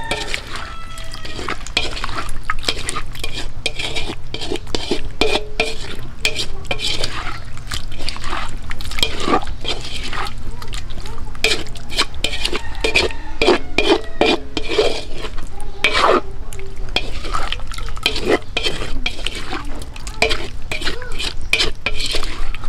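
Pork adobo is stirred in a cooking pot over an outdoor fire, with utensil scrapes and clinks against the pot over a steady simmering sizzle that runs throughout.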